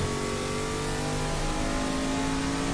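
A classic GT race car engine in the racing game GT Legends holds a steady, loud, buzzing rev, with a continuous engine drone throughout and no talk.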